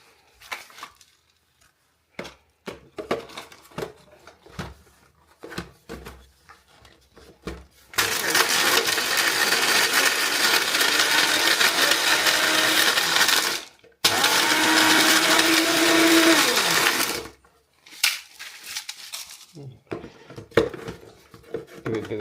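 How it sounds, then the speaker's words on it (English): A small blender crushes bone char in two loud, harsh bursts of several seconds each, preceded and followed by knocking and rattling of the jar. "this is what we had before the NutriBullet, like a little blender thing"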